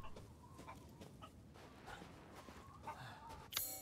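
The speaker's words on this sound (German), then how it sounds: "Ich würde gern zu diesem blöden Huhn gehen." Faint clucking from a chicken in Resident Evil Village, heard as scattered short calls over a low game ambience, with a sharper burst near the end.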